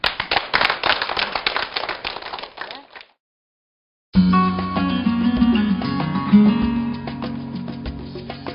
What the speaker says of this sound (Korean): 힘찬 박수로 시작하겠습니다.